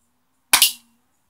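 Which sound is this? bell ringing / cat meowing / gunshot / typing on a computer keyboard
gunshot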